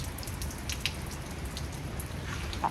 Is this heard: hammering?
no